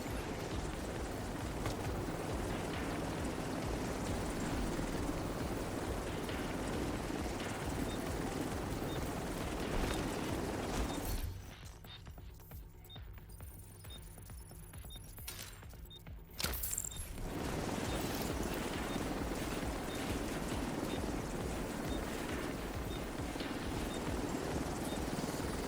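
Helicopter arriving in The Division 2, a steady loud rotor drone and rumble filling the scene, briefly dropping away for a few seconds before returning at full strength alongside faint game effects.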